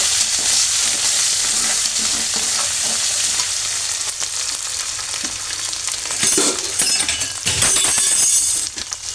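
Loud, continuous sizzling of ginger, garlic and green chilli paste frying in a hot pan, with stirring and occasional metallic clinks; no voices.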